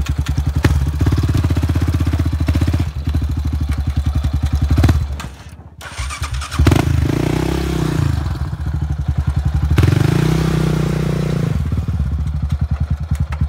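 A 2007 Yamaha Raptor 700R ATV with a loud DMC dual exhaust climbs a steep icy trail, its engine roaring and revving hard and close with clattering bursts, dipping briefly before it surges again.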